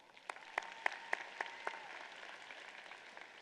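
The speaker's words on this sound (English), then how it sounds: "Give yourselves one more round of applause." Audience applause at a Georgia FFA convention session. A few sharp, distinct claps stand out over a soft, fairly quiet crowd clapping, heard from a distance, with no talking.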